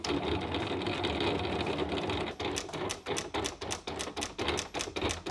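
A mechanical whirring hum from a vinyl cutter, then a rapid series of ticking, tapping strokes as the blade cuts a stencil, extending past corners and lifting, steady and close.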